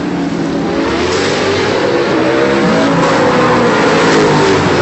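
Off-road race trucks roar away at the green flag of a short-course race, engines revving hard as the pack charges downhill and back up into the first turn, a loud dense mass of engine noise throughout.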